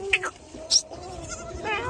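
A goat bleats in brief, high calls at a farm beside a parked tempo, with other farm sounds around it and a person talking nearby.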